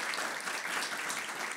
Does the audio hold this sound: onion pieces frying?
no